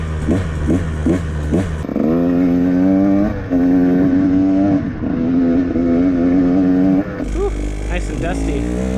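A KTM 150 XCW two-stroke dirt bike with a Lectron carb fires up after a few kicks, then runs with a loud, raspy, rising and falling rev close by, under occasional talk.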